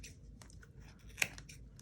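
A few quiet snips and crunchy cuts of scissors through a yarn pom-pom, with one sharper snip standing out, close by in an otherwise quiet room.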